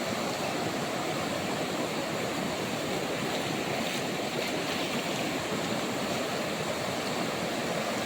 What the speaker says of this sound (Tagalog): Wala na, puno na ng tubig. Lakas na ng baha.